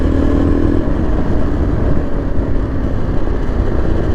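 A 2024 Yezdi Adventure motorcycle engine during a downshift from fourth to third gear, a loud, close, steady low rumble with wind buffeting and no clear rev changes.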